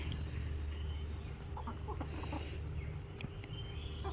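Newly laying backyard hens clucking softly nearby, a few scattered short clucks over a low steady background hum.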